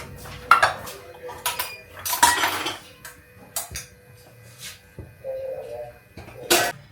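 A spoon and dishes clink and clatter in a home kitchen at dinnertime, sharp metallic knocks and scrapes coming in irregular bursts, close up, with a voice speaking among them.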